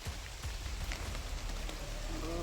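Steady, dense rainfall hisses continuously, with drops pattering close by and a low rumble underneath.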